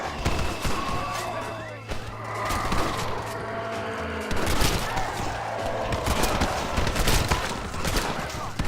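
Gunfire from a Red Dead Redemption: Undead Nightmare shootout, a dense run of shots and booms layered over game music and noise, with people talking and cheering over it throughout.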